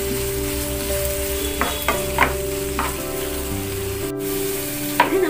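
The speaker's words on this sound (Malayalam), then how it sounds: "ഇത് നമുക്ക് നന്നായി വഴറ്റി കൊടുക്കാം." Onions sautéing in oil in a pan for chicken kushka, a steady sizzle with several scraping stirs and one sharp clatter, no talking.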